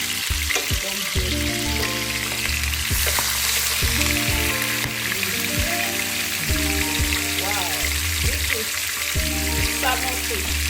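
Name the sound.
salmon pan-frying and sizzling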